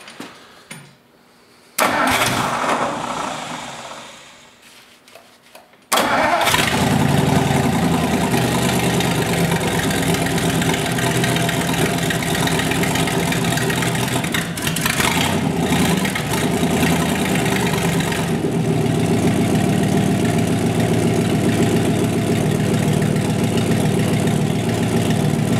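A 1956 Ford engine cranks briefly, catches and settles into a steady, loud idle that runs continuously for over twenty seconds, with a short lull in the middle.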